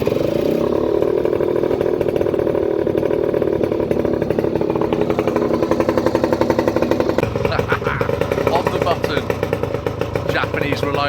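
A Honda Vision 50 scooter engine fitted with a larger carburettor and manual choke runs at close range, a loud, rapid buzzing putter that sharpens and revs higher partway through, with voices talking over it.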